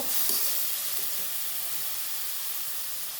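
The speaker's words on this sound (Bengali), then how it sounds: "কিছুটা পরিমাণ জিরে গুঁড়ো সামান্য একটু জল দেব দিয়ে মশলাটা বেশ ভালো করে কষিয়ে নেব" A spice masala with cumin powder and a splash of water fries in a pan for crab curry, making a continuous hissing sizzle with faint stirring throughout.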